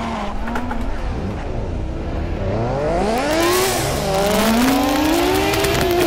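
Nissan Skyline R34 engine in the racing game Assetto Corsa, revving up and down through gear changes with a rising, smooth whine, loud and close throughout, with no talking.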